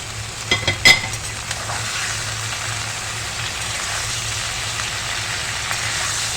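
Gourd stems drop into hot oil tempered with fenugreek and black cumin, giving a few quick clatters and then a steady, loud, close frying sizzle with no talking.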